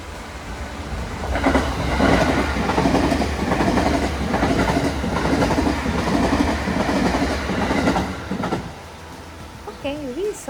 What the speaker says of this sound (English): if you hear the signal, it means that the train is approaching